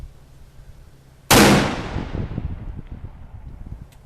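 A black powder big bore revolver fires one loud, close shot that cuts in abruptly, then a long, booming decay rolls on through the rest of the clip.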